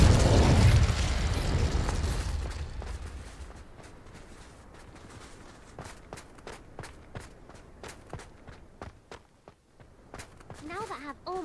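Bombarda and Confringo spell blasts in Hogwarts Legacy go off as a loud booming burst at the start, fading into a run of crisp footstep-like thuds and pops, with a brief tonal chirp near the end.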